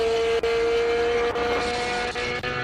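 A classic Porsche races past at a hill climb, its engine a steady high tone held under pace through a set of S-bends, loud and close with brief dips as it works through the turns.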